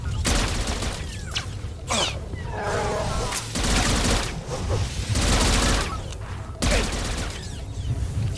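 Combat in Star Wars: The Old Republic, a grenade blast among a dense barrage of blaster fire and booms, loud and continuous with heavy bursts, and a voice speaking at times.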